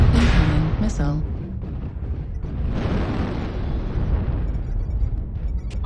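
Missile explosion in the mech combat game MechWarrior Online, a loud booming blast with a rumbling low-end tail over a busy battle soundscape, with a voice briefly speaking near the start.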